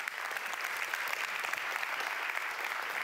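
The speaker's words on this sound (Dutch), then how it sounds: "Mag alsjeblieft een heel warm applaus." Warm applause from an audience at the opening programme of a smart city event in Amsterdam, greeting a municipal alderman: steady, dense clapping that holds evenly for a few seconds with no voices over it.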